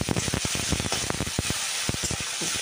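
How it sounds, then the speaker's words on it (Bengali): Radish and potato pieces frying in hot oil tempered with cumin and dried chilli, a close, steady sizzle broken by sharp scraping clicks as the pan is stirred. "প্রথমে মূলোটুকু দিলাম, তারপরে দিয়ে দিলাম আলু, দিয়ে একটু নাড়াচাড়া করে নেবো"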